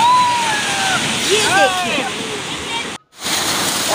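High sea waves at Hawks Bay beach in Karachi wash up against the shore walls, a steady broadband roar of surf and sloshing water under a person talking, with a brief dropout near the end.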